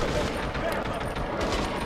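Automatic gunfire from an AK-style rifle in the PS2 video game 25 to Life, a dense continuous fusillade of rapid shots filling the whole moment, loud and close, with voices faintly mixed in.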